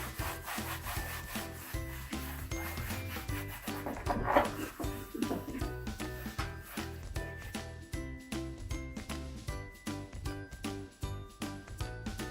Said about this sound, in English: I'm just going to clean it with some alcohol just to make sure all the grease is off